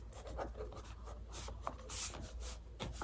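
A pen scratches and rubs across a prayer board while letters are written out, giving quiet, close-up strokes in short bursts with faint scratchy rasps between them.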